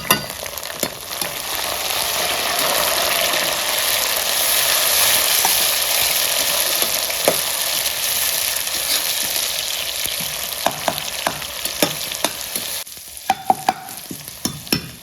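Chopped tomatoes fry in a hot oil tadka with a loud, steady sizzle, with a few clinks of stirring near the end.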